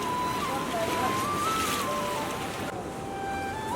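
A swollen village river in flood rushes past in a steady, broad roar close to the microphone, with a thin wavering whistle-like tone above it.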